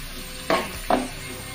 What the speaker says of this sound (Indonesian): Kita goreng ikan teri Medannya ya sampai agak kering, tapi jangan terlalu kering ya ibu.